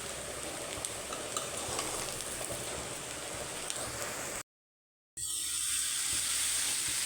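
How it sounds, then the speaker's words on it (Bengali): Eggs fried and stirred in a pan, a dense steady sizzle close up, cut by a short silence before a brighter, hissing sizzle resumes. "এই যে ডিমগুলো কষিয়ে নিতেছি"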